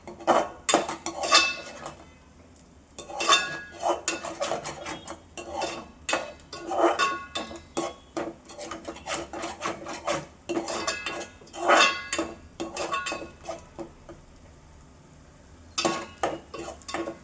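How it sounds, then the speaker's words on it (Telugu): Quick, rhythmic clinking of a utensil beating egg in a bowl in bursts, with short pauses between. "ఇలా ఎగ్ కొట్టేసుకోవడమే. దీన్ని మంచిగా కలుపుకోవాలి"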